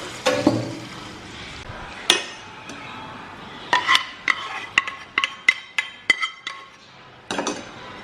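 Tempering stirred into a buttermilk curry (moru curry) with turmeric: a metal spoon clinks and scrapes against the vessel in a short irregular run of sharp taps, close by, with no talk.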